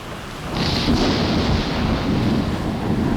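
A thunderstorm sound effect: a deep, rolling rumble of thunder swells early and holds over a steady wash of falling rain, loud and continuous throughout.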